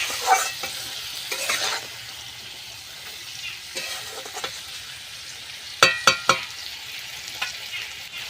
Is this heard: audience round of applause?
no